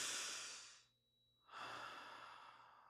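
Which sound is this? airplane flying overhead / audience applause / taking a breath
taking a breath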